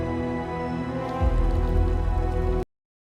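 Steady rain pours in a Star Wars game trailer, a dense continuous hiss that thickens into heavier downpour partway through, then cuts off abruptly, with no talking.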